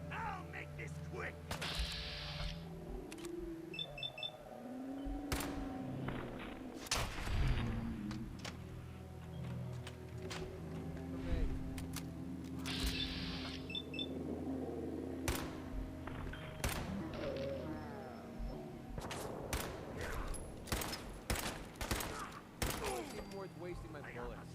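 Scattered gunshots and impacts during combat in the game Fallout 4, mixed with mechanical clatter and game noise at moderate level, with voices talking across the scene and a denser flurry of shots near the end.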